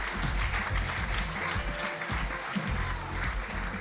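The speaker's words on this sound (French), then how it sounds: "je pense qu'on peut tous les applaudir" Audience applause for award winners at the 2016 SNCF Foundation prize ceremony; sustained, even clapping from a sizeable crowd in a hall, moderately distant and steady throughout.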